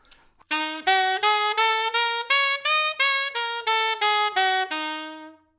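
A bright, reedy horn plays a line of evenly spaced, detached notes with strong accents, moving stepwise up and back down, ending on a held note.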